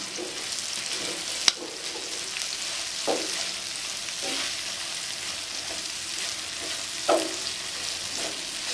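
Clam meat fries and crackles in a pan as it is stirred into masala for a Kerala-style clam roast, with a steady sizzle broken by periodic scraping strokes of a spoon and a sharp clink; no talking.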